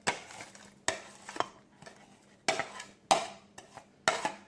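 A spoon scrapes and knocks through a sandwich filling mixture in a bowl for a compact kwaf el arabo sandwich, several short bursts of stirring and clinking separated by brief pauses, close and fairly quiet.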